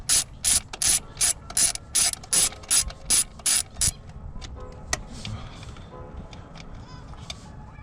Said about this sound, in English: I've got to get a deep socket to get that stud off, or a wrench.